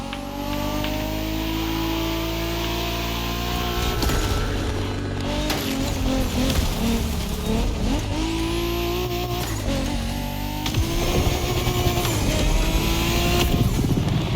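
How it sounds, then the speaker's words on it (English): A Dodge Challenger SRT Cross Country Edition races in The Crew Motorfest, its engine droning loud and steady, then surging and dropping through repeated gear shifts and revs, with tire squeal mixed in. "the Dodge Challenger SRT Cross Country Edition"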